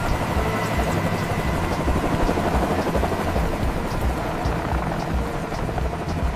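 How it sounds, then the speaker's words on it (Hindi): A helicopter sound effect: a continuous, dense rotor roar with steady thumping, loud and close, holding at an even level throughout with no voices. "प्यारे बच्चों देखो हेलीकॉप्टर।"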